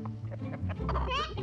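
Several chickens clucking close by in a short burst of overlapping low clucks and squawks.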